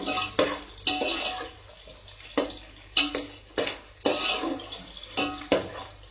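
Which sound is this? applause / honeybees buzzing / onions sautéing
onions sautéing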